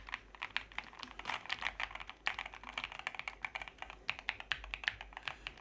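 Quiet, steady typing on a NuPhy mechanical keyboard: a flurry of sharp, clicky key presses with occasional heavier thocks, close-miked and low in level, no voices over it.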